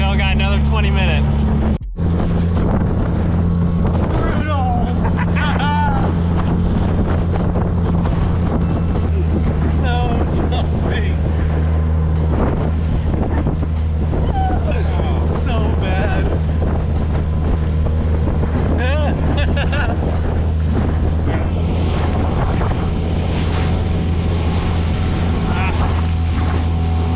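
A boat engine drones steadily on the long return run across the sea from Punta Bufeo in Baja, under a constant roar of wind buffeting the microphone, while people talk throughout.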